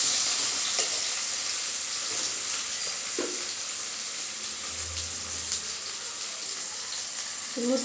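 Onions sizzle steadily in hot oil, a continuous frying hiss with occasional soft crackles and clinks, and no talking.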